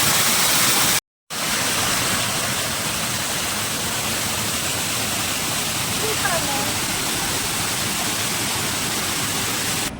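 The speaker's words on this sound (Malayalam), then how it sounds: "ഇവിടെ ഒരു കുഞ്ഞു വെള്ളച്ചാട്ടം കിട്ടോ അത് കാണിക്കാൻ പറ്റുമോ നോക്കട്ടെ" A small waterfall beside a narrow uphill path roars steadily and loudly close by, one continuous rushing wash of water broken only by a brief cut near the start.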